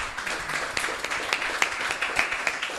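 Scattered audience clapping at a closing conference of a social selling forum in Clermont-Ferrand, individual claps standing out over a light background for a few seconds after a testimonial.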